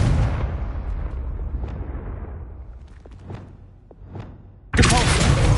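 A Confringo fire spell in Hogwarts Legacy bursts with a loud boom that fades into a long rumbling tail, followed by scattered small pops and then a sudden bright blast near the end.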